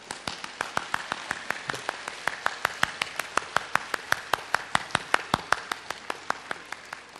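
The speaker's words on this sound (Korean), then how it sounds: "박수 치세요." An audience at a 2007 speech event claps in steady unison, with sharp, evenly spaced beats repeating at a brisk tempo over a soft wash of room noise.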